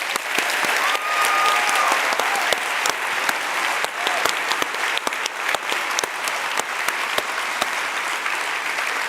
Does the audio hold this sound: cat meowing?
no